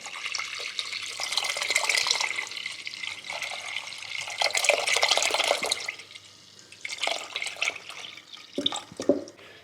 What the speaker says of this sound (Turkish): 1 litre sütümüzü de dökelim.